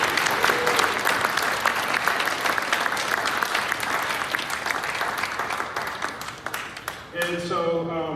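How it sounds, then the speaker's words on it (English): Sustained round of applause from an audience at a mayoral candidate forum on Mare Island, dense steady clapping for about seven seconds before a voice starts speaking near the end. "So can we just give them each a round of applause just for standing up for the city?"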